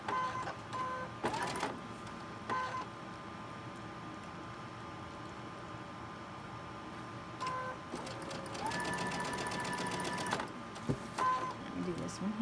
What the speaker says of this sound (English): I'll finish sewing this.